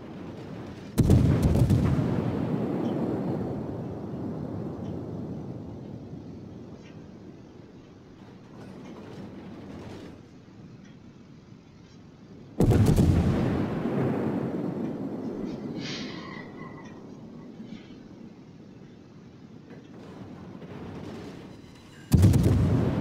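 Naval artillery salvos from the French destroyer Charles Martel in World of Warships: three heavy gun blasts, each a sharp boom trailing off into a long rumbling decay, spaced several seconds apart, with no talk.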